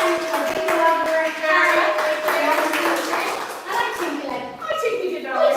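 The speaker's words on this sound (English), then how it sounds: "huge big clap from our live audience" A live audience at a florist awards ceremony claps and cheers in a busy burst, hands patting rapidly while people chatter and call out over the applause.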